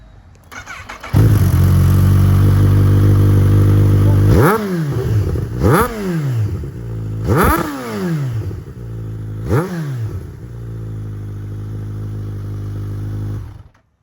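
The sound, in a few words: Kawasaki ZH2 motorcycle revving with Scorpion Serket exhaust, DB killer removed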